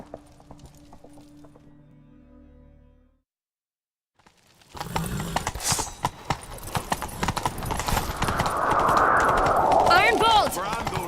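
Horse hooves gallop in The Witcher 3, with a clear clip-clop rhythm that starts after a near-silent stretch and builds as the chase runs, mixed with game sounds and voices.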